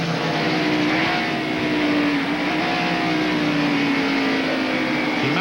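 NASCAR stock cars roar past on the backstretch at the 1994 Bud at the Glen, a dense, loud, continuous engine drone with shifting pitch as the cars sweep by.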